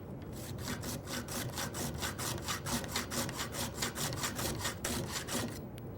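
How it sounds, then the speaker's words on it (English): Metal file stroked back and forth across the edge of a steel card scraper clamped in a vise, a steady rhythmic series of raspy scrapes at about three per second, close and fairly quiet, with no speech. "That's simply done by putting the scraper on the vise and a few strokes back and forth."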